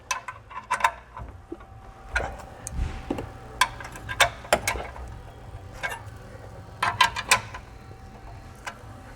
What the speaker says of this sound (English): Finish it off here with this 13 millimeter 1/2 ratchet wrench so I can get a little torque on it